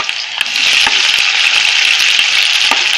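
Chopped onion sizzles loudly in hot oil in a pan while cooking a Maharashtrian black pea curry, a steady close hiss that jumps up after a moment, with occasional stirring clicks.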